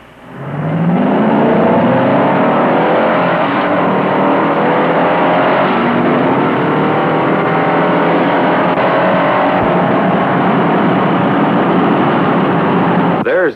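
Ford Galaxie and Chevrolet Impala cars accelerate side by side in a race heat, engines roaring loudly and climbing steadily in pitch through the gears for over ten seconds, with a narrator talking over the noise.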